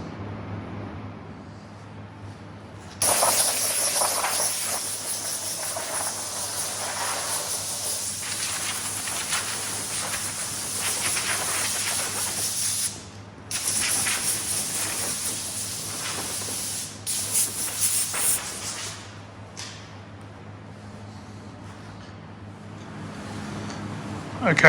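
Aerosol primer sprays onto trim pieces from a 2006 Vauxhall Corsa C 1.0 in a home workshop with no spray booth, three long, loud hissing bursts with short pauses between them over a quiet background.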